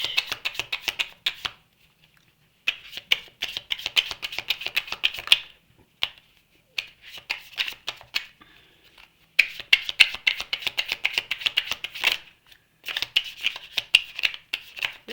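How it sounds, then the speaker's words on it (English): A deck of cards shuffled by hand in repeated riffling bursts of rapid crisp clicks, close and loud, broken by short silent pauses between rounds. "It's the worst shuffle ever."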